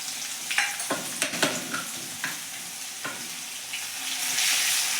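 Garlic, green chili and ginger paste fries in hot oil with asafoetida as it is stirred for chole. Close spatula scrapes and taps come in bursts, and a hissing sizzle swells louder toward the end, with no talk.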